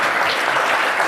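A short burst of audience applause at a keynote session, dense steady clapping that fills the moment without any voices.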